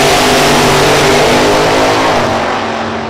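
A supercharged drag racing car engine revs hard at a dragway, a loud, close, dense roar that holds steady then slowly fades over a few seconds.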